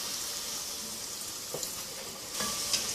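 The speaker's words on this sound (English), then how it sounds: "after you dump them in here, you want to make sure you stir them until they're a nice golden brown" French fries frying in hot oil while being stirred, a steady broadband sizzle throughout with a couple of soft scraping knocks from the stirring, no voices.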